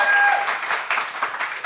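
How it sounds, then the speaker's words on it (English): An audience at a live show celebrating The Princess Bride applauds a guest, a dense burst of many hands clapping that starts strong and gradually thins out. "Round of applause for Caleb right there."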